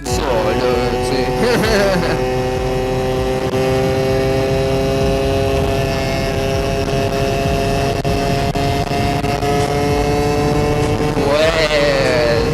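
A scooter engine drones steadily at about 55 km/h on a country road, a loud continuous hum with stable harmonic tones, with wind noise and occasional rising pitch shifts; a rider talks over it.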